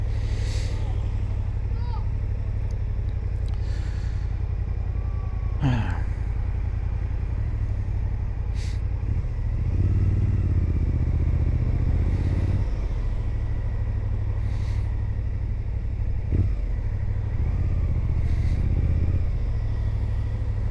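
A motorcycle rides along a road with a steady, loud low engine drone and wind rumble throughout, plus a few brief knocks and swells, heard close from the rider's position.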